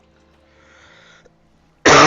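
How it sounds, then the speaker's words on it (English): One sharp, loud cough lands right at the microphone, bursting out of a near-silent room at the very end. "I don't mean to be coughing in the microphone."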